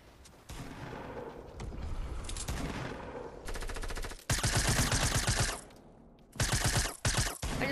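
Rapid automatic gunfire in an online multiplayer shooter video game, dense machine-gun bursts in several sustained volleys with brief pauses between them, loud and close.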